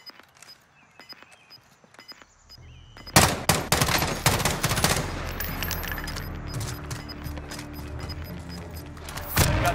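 Gunfire in Call of Duty: Modern Warfare: after a quiet opening, dense bursts of automatic fire break out and keep rattling, loud and close, with sharp individual shots over a continuous battle din.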